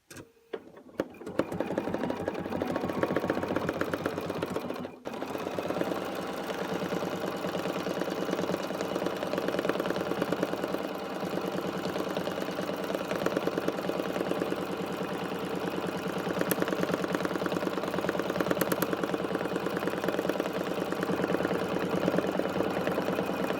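A sewing machine runs steadily and close by for the whole stretch, stitching thread highlights onto a Texas wildflower quilt pattern. Its even, rapid whir pauses only briefly near the start.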